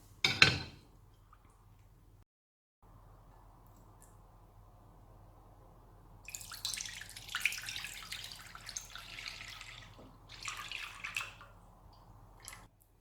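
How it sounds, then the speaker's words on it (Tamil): A little water is added to a pan and brought to a boil while cooking Chettinad thirattupal, a milk sweet. There is a brief clatter, then quiet, followed by intermittent soft splashing and bubbling bursts. "இதில் கொஞ்சமாக தண்ணி சேர்த்து கொதிக்க வைக்கிறேன்"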